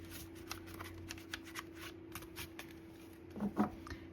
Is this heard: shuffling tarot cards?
yes